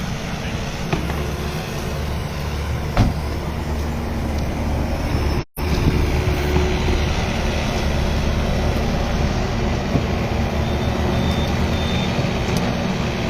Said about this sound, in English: There's one of the tip trucks that's turned up to give us a hand this morning.